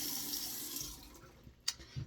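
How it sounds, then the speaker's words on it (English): A bathroom tap runs quietly into a sink for a mouth rinse, a soft hiss that fades partway through and ends with a brief clink and splash. "Need to rinse out my mouth."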